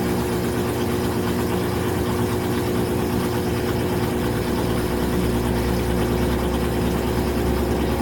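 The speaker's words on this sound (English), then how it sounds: "And here the motor is going on again." Washing machine motor running through a spin cycle, a steady continuous hum and whir with constant vibration, close and even in loudness from start to finish.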